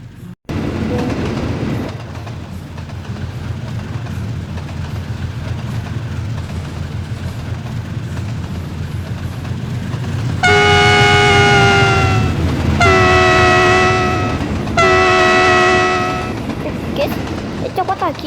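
A train in a train simulator game rumbles along the track at a steady, loud level, then sounds its horn in three long, bright blasts near the end.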